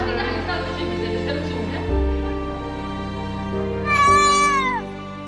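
An injured cat with a broken leg at an animal hospital gives one clear, drawn-out meow near the end, heard close over a low steady hum in the room.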